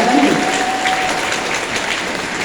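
A crowd claps steadily and loudly for a sea lion named Arthur at an animal display show, a dense continuous round of applause with a brief whistle-like tone early on.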